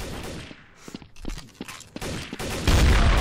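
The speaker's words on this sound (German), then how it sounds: "da hat jemand ins Portal geschossen oder so" Rapid bursts of gunfire in Trouble in Terrorist Town, the Garry's Mod game, crackle loud and close in short volleys, building into a dense sustained burst near the end.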